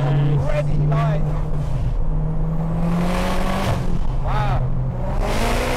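A 502bhp Ford Fiesta ST150 revs hard with a loud, sustained engine drone that rises steadily in pitch as it accelerates, with interior rumble and brief voices reacting over it.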